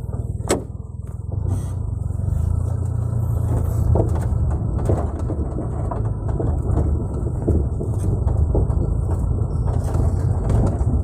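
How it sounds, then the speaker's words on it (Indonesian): Suzuki Carry Futura pickup driving with the windows open, a steady loud engine drone and road rumble from inside the cab, with occasional rattles and clicks. "saya akan mencoba jalan, bawa jalan mobil ini"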